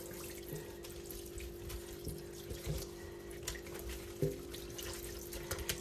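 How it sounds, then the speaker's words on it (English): A kitchen tap runs into a sink as a whole turkey is washed, a steady close rush of water with soft splashes and occasional knocks as the bird is handled. "So she always took her turkey and washed it."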